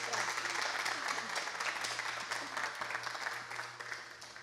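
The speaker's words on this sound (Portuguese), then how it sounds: "Uma salva de palmas." Audience applause at a relaunch event for an education project, a steady dense wash of clapping from a crowd that holds evenly for several seconds with a low steady hum underneath.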